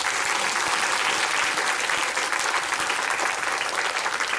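Steady, loud audience applause at a movie talk event in a Dolby Cinema theater, dense and continuous clapping from a large crowd throughout.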